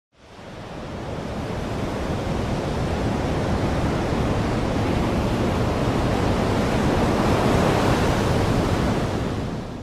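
Broad, steady roar of ocean surf below a cliffside by a house, fading in at the start and washing continuously with no voices.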